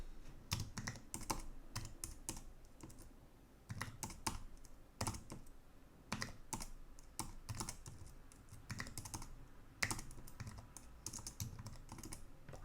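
Fingers type on a computer keyboard while coding RPG on an IBM i/AS400 system, with bursts of quick clicky keystrokes separated by short pauses, close and fairly quiet.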